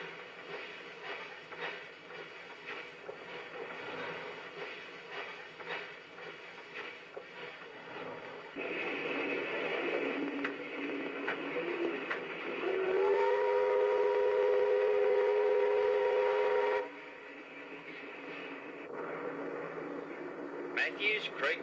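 A train climbing the grade to Dorrigo near Lee, the highest point on the line: a steady rumble that grows louder, then a sustained whistle-like tone holds for several seconds before cutting off, with a voice narrating over it.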